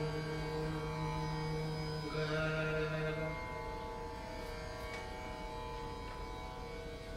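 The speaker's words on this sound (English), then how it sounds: "The tempura or tambura is usually played by the student accompanying the master." A tambura drones on its open strings, a sustained shimmering wash of steady overlapping tones with no distinct plucks standing out, held at an even level throughout without any voices.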